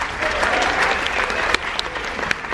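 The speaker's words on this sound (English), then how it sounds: "everybody clap!" An audience claps together at a live comedy show, a brief burst of dense, lively applause with a few sharper individual claps.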